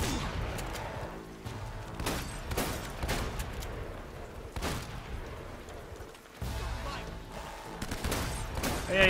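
An M4 rifle fires in Uncharted: Drake's Fortune, sending repeated sharp shots and short bursts through the whole stretch, loud and close, with scattered impacts and game ambience between them.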